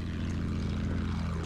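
A propeller plane's engine in Battlefield 1 drones in a steady, loud, low rumble that holds unchanged for the whole short stretch.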